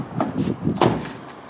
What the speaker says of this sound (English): Again, doors shut nicely.